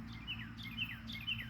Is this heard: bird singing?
yes